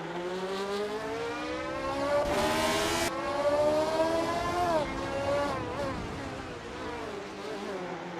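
Racing engines of 1976 Formula One cars, including an Ensign N176, whine in a video game, pitch climbing through gears then dropping, with one car passing close in a brief loud surge.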